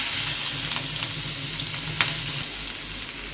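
Onions sizzle steadily in hot oil with a dense, crackling hiss and occasional stirring scrapes, close and continuous.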